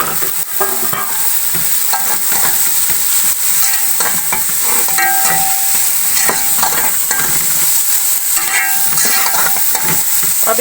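Finely chopped vegetables, including green chilies and capsicum, sizzle steadily in a hot pan for vegetable soup, with continuous frying hiss and occasional stirring scrapes close by.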